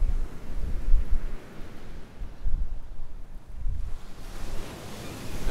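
Strong wind blows outdoors beside coral culture tables, a steady, gusting low roar that buffets the microphone, surging and easing in waves with no voices.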